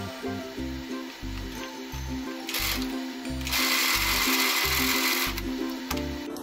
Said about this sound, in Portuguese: Vou passar uma costurinha aqui em cima.